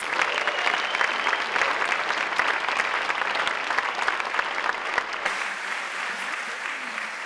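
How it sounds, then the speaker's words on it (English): A large awards-event audience at a National Philanthropy Day celebration gives a sustained, dense round of applause, loud and even for several seconds before cutting to a quieter room tone. "may we please give Maria another robust round of applause"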